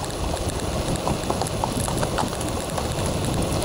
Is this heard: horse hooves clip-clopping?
yes